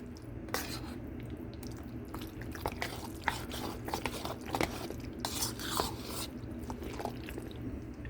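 Tuna salad with finely diced white onions being stirred together in a bowl, giving soft, irregular wet scraping and clinking of a utensil against the dish, close and quiet with no talking.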